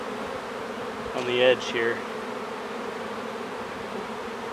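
Honey bees humming steadily around a wine barrel hive, a continuous close drone with a brief louder buzz as one passes near, while a person speaks quietly over it.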